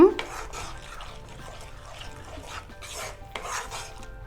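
Spoon stirring garam masala, turmeric and salt in a pan for Kolhapuri-style misal pav, giving soft repeated scraping and rasping strokes at close range, fairly quiet throughout.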